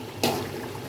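Water pours suddenly into a pot of frying rice for biryani, a short near splash and rush starting abruptly and then tapering off.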